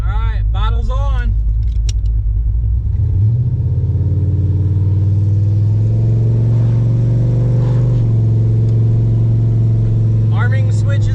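A Chevrolet Caprice station wagon fitted with nitrous revs in first gear, the engine climbing from a rumble into a loud sustained roar close to the microphone, with someone speaking briefly at the start and end.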